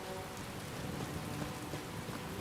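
Steady rain falling in the video game Skyrim, a continuous even patter of drops on surfaces with no thunder or talking, heard on its own.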